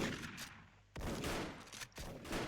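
Rapid gunfire in the Special Force shooter game with a PSG-1 sniper rifle, loud bursts of shots cracking one after another close by, with sharp blasts near the start, middle and end.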